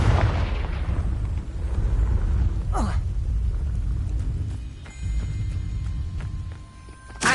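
A Confringo spell goes off in Hogwarts Legacy as a deep, rumbling blast with a sweeping whoosh, followed by lingering low crackle, while a voice calls the spell over it.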